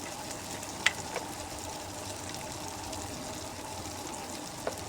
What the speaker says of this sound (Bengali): একদম লাল লাল করে ডিমটাকে ভেজে নেব।